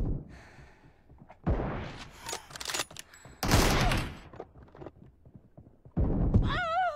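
Bursts of AKM rifle and M24 sniper fire in a PUBG battle royale match, several loud separate volleys broken by quieter gaps, followed by a short whistling tone at the end.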